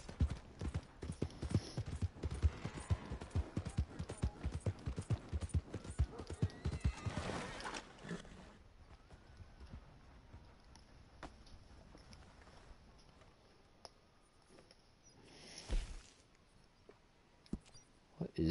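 Red Dead Redemption 2 horse hooves clip-clop in a steady rhythm for several seconds, then fade to quieter ambience with a faint whinny later.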